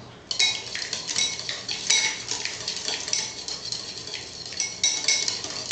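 Utensils clink and scrape against a bowl or plate while steak tartare ingredients, including finely chopped meat and olive oil, are mixed together, a steady close run of small metallic taps with no talking.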